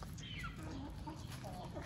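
A chicken clucks softly in short, scattered calls over a steady low background hum, fairly close but quiet.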